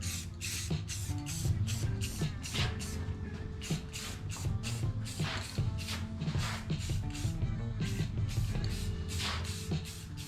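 Spray painting new coats onto car parts, including clamshells, during a 1981 Monte Carlo restoration: steady hissing bursts of spray, close and continuous, with short pauses between passes and no talk.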